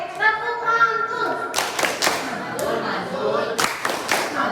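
Classroom group doing a rhythmic clapping chant, several sharp loud claps in a pattern with children's voices speaking and chanting between them.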